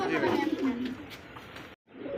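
Satin pigeons at a market stall give low, throaty coos close by, mixed with a voice talking, before a brief dropout near the end.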